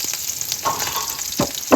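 Chopped small onions frying in a cooking pan make a close, continuous sizzle, with a few louder crackling bursts rising near the end.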